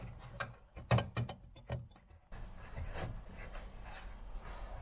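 Small wire retainer clip being fitted over a headlight bulb on a Peugeot 107, close metallic clicks and scrapes in short bursts, followed by a steady soft rubbing hiss.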